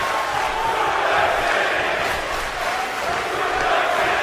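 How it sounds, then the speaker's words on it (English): A dense, steady roar of an arena crowd cheering during a wrestling match in WWE 2K18, with no pauses. "You can hear the crowd."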